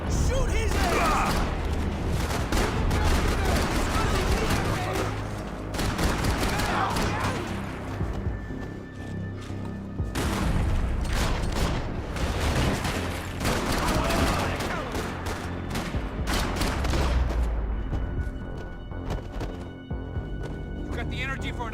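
Heavy gunfire in the video game Max Payne 3: sustained bursts of rapid shots and crashes, loud and dense, with brief lulls around mid-clip and shouted voices mixed in.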